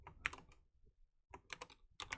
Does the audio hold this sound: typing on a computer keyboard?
yes